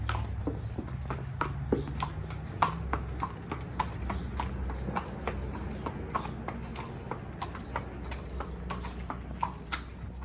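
Bridled horses walking into a stable arena with steady, overlapping clip-clop of hooves on firm ground, over a low rumbling background.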